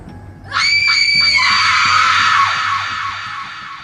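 A woman in a Hindi horror story lets out a loud, sustained, high-pitched scream lasting about two seconds, then trailing off with echoing decay.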